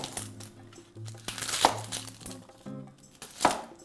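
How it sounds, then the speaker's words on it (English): A knife cutting broth ingredients in half on a board, several crisp chopping knocks and crunches at irregular intervals with brief pauses, close and moderately loud. "We're just going to cut these in half."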